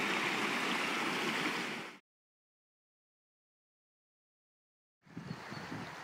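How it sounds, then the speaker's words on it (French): A river's main channel flowing beside houses, with an old side arm nearby, gives a steady broadband rushing of water, loud for two seconds, then cut to silence before resuming. "Le cours principal de la rivière est donc sur la gauche, on le voit"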